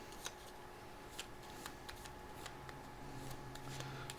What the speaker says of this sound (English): Shuffle out our monster deck.